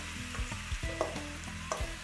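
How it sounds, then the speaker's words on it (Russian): Meat sizzles in vegetable oil in a large deep pan while a Korean meat stew is being prepared. The steady frying hiss sits close and loud under repeated clatters and scrapes from stirring utensils. "Добавляем 3 столовые ложки растительного масла и выкладываем жариться мясо."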